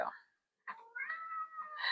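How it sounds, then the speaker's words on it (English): A cat meows in a room, with one short cry and then a longer drawn-out wail that rises at the end, clear and fairly close. "you have a cat in the background"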